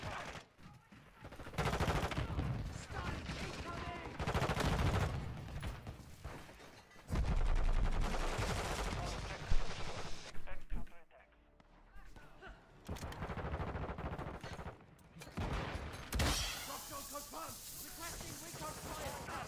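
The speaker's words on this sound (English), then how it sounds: "Literally called an airstrike on myself." Airstrike explosions and gunfire in Modern Warfare 2, heavy bursts of booming blasts and rapid shots in loud clusters separated by quieter gaps, with a voice talking at times.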